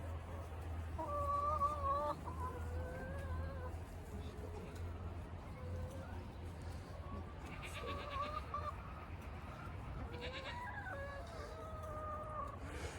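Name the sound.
chickens clucking while being fed bread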